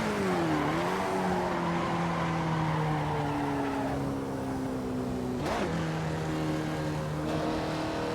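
Wilbur Shaw's 1930s Maserati racing car in Assetto Corsa on the historic Monza combined circuit, its engine droning and shifting pitch while skinny bias-ply tires slide and squeal through corners, with a sharp shift midway.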